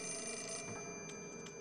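A telephone in the game Project Zero 4 rings with a steady electronic bell tone, faint and alone, with a few brief clicks near the end.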